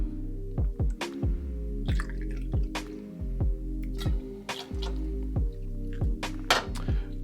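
Havana Club Añejo Especial rum pours from a bottle into a cocktail with a steady run of rhythmic, hollow glugs, close and fairly loud throughout.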